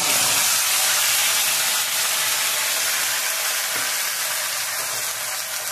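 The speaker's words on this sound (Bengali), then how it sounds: "একটা তেজপাতা ফোড়ন দিয়ে দিলাম, আর কোনো ফোড়ন যাবে না, তেজপাতা ফোড়ন দিলাম।" A bay leaf tempering in a little hot oil for tel potol, giving a loud, continuous close hiss and sizzle with no talk.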